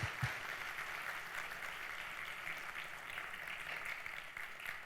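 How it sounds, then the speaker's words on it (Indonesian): Audience applause at an indoor unpacking event honouring Diamond, Emerald and Platinum members, continuous clapping from many hands filling the room at a moderate distance, steady throughout. "Berikan aplaus untuk mereka."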